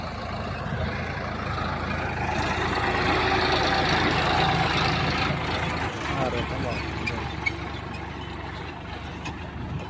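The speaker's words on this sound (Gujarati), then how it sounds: "આ ટ્રેક્ટર" A tractor engine rumbles steadily near a roadside temple, a loud continuous drone that changes briefly partway through, with a voice talking over it.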